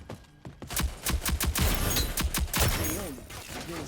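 Gunfire in the shooter Rogue Company, a rapid run of sharp, close shots in quick bursts with a dense game soundscape behind, ending in a softer tail of ambient noise.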